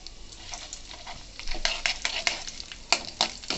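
Tempering spices and small onion crackle and sizzle in hot oil while making ridge gourd fry, popping in quick irregular bursts that grow louder, with a few utensil clinks close by.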